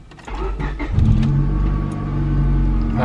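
A Honda Civic EK coupe's engine rises from a low idle into a loud, sustained rev as the car pulls away, heard close up with no voices.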